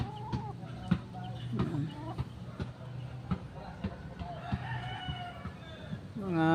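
Chickens cluck and a rooster crows nearby, mixed with faint peeping of chicks in a farmyard, while a person speaks over the birds.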